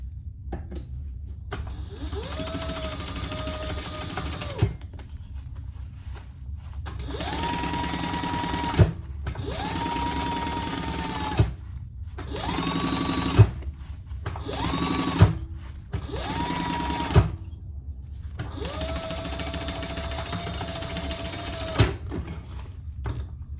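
A sewing machine stitches the lining of a zippered clutch bag, running in about six bursts of steady whirring and needle chatter, separated by short quiet pauses, loud and close with no talking.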